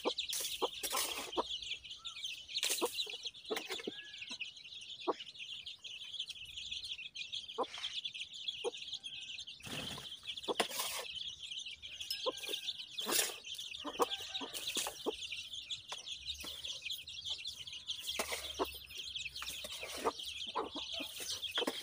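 Chickens cluck and call steadily near a village yard while pecking at termites, with soft clucks repeating throughout and outdoor background noise around them.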